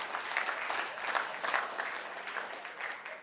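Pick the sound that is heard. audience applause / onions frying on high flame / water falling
audience applause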